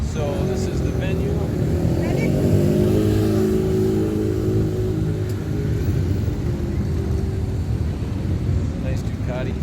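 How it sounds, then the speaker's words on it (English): A Ducati motorcycle rolls in at an outdoor moto show, its engine a steady close rumble that swells and eases slightly, with background crowd noise and talk throughout. "Nice Ducati coming in over there."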